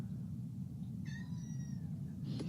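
Pet cats let out a faint, brief meow partway through, with another short cry near the end, over a steady low background rumble.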